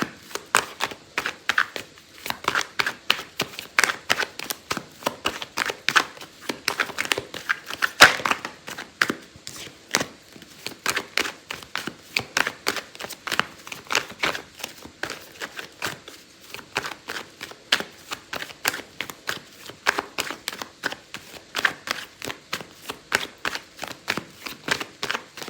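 Tarot cards being handled and shuffled in a long run of quick, crisp riffling and slapping flicks, close and fairly quiet, with an uneven but busy rhythm and no talk.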